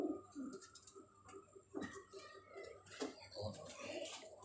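Kamangar and golden teddy pigeons cooing in repeated soft, low calls, close by and moderately loud, with a few chirps and light rustling mixed in.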